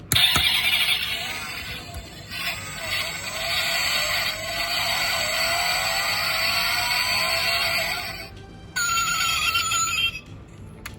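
An Initial D AE86 toy car's speaker blares buzzy, high-pitched engine and driving effects in a long run, broken by a brief silence before another burst.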